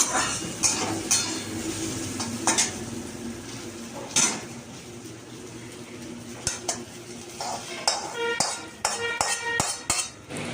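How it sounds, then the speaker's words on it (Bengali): Okra frying in a pan on a home kitchen stove, with steady sizzling broken by repeated clinks and scrapes of a utensil stirring against the pan, close and fairly loud. "ঢ্যাঁড়সগুলো ভাজা হয়ে গেছে, ঢ্যাঁড়সগুলো নামিয়ে রাখলাম।"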